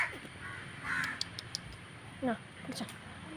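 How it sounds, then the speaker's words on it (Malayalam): Crows squabble over food, letting out a few harsh caws and scattered squawks against a low outdoor background with faint voices. "അതുപോലെ ഇവിടുന്ന് വിട്ടുപോയ നല്ല കാക്കകളുടെ യുദ്ധമാണ്"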